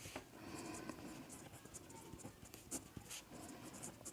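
Pen or chalk writing on a board or notebook during a Class 10 maths lesson, a steady run of light scratchy strokes with small taps, close and fairly quiet, with no talking.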